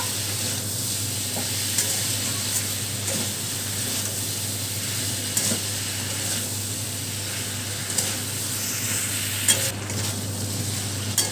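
Shrimp with mustard paste and spices frying in a pan, stirred steadily, gives a constant close sizzle with light scraping and clicking from the spoon, no voices.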